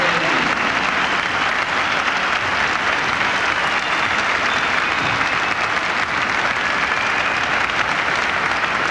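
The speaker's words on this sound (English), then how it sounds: "A really appreciative crowd here in Stuttgart as they applaud that performance" A large arena crowd in Stuttgart applauds a women's gymnastics routine at the 1988 DTB Pokal Cup, a dense, loud, sustained wash of clapping that holds steady for the whole stretch.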